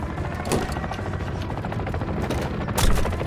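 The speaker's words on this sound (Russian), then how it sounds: "Вертушка меня прижала!" An attack helicopter in Call of Duty: Modern Warfare 3 rotor-thumps steadily over dense, loud gunfire and mechanical clatter, with a heavier impact burst near the end.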